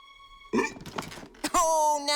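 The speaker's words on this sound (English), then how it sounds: "now the monster under the bed has the hiccups" Hiccup sounds come from under a bed in a children's cartoon: a couple of abrupt, voiced gulps, followed by a drawn-out, moaning vocal sound.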